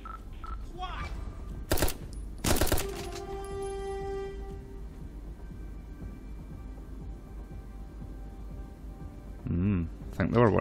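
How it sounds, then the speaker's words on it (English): Two sharp, loud gunshot cracks ring out in the video game Hot Brass, each followed by a lingering electronic tone. Game ambience and a man's speech run underneath, with a buzzing, fluttering burst near the end. "I think I'm just going to shoot this one."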